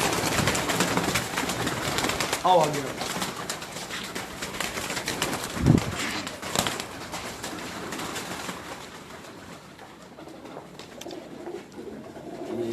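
Pigeons coo amid a busy outdoor loft scene, soft repeated calls mixed with rustling and background noise, and a voice speaks briefly.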